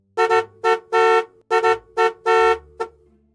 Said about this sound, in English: began honking again.